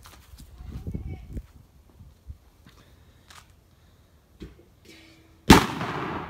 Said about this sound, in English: Now that was a fucking firework